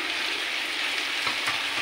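Fresh chicken thigh fillet frying in oil in a pan for butter adobo: a dense, steady hiss and sizzle, loud and close, holding evenly with slight crackling swells.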